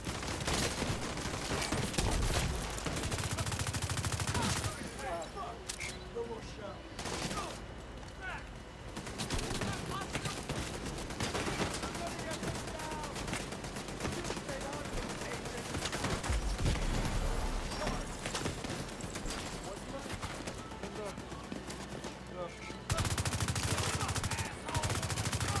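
Rapid turret gunfire rattles through a firefight in The Division 2, bursts repeating with dense layered shots and combat noise throughout, loudest at the start and near the end.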